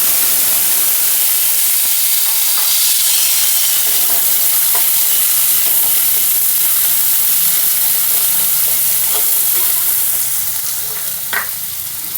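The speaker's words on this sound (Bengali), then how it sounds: "এবার ওই তেলে একটু আলুটা ভেজে নেব" Potatoes frying in oil left over from frying fish heads, a loud continuous close sizzle with faint stirring clinks throughout, tapering slightly at the end, no voices.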